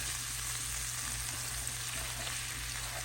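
All-purpose flour frying in melted fat over medium heat for a roux, a steady soft hiss and sizzle that stays faint and even throughout, with no voices.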